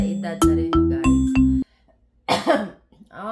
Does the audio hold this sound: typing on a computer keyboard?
no